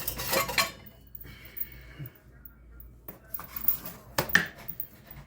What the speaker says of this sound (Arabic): هقطع العجين اهو